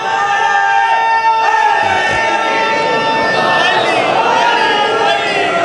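At a Muharram majlis sermon in Layyah, a large gathering shouts a religious slogan in unison, a loud, sustained chorus of massed voices carried through an amplified hall.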